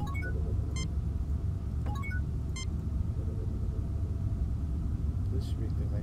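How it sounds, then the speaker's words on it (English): A machine in the Star Trek 25th Anniversary video game synthesizing nitrous oxide, heard as a steady low mechanical rumble with a few short electronic beeps and chirps over it, and no talk. "The machine synthesizes a liter of nitrous oxide."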